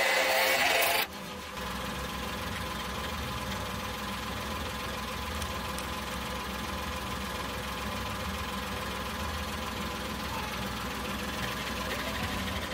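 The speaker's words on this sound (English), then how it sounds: "I'm using my portable machine to add air." A portable air compressor inflates a car tire, a steady buzzing, rattling hum with a mechanical chatter that kicks in after a brief opening noise and runs continuously close by.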